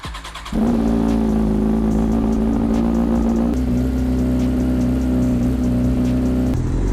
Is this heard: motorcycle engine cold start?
yes